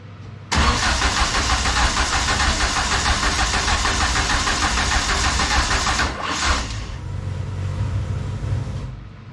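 A car engine cranking on the starter during preparations for its first drive, with fuel pressure dropping while cranking; a loud, continuous, close churning runs for several seconds, then cuts to a lower, quieter rumble.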